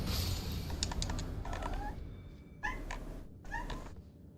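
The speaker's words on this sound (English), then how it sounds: "Do not ask me what my cat is peeping about in the background" A pet cat gives several short, high meows in the background, spaced over a few seconds, soft against steady room noise and faint keyboard typing.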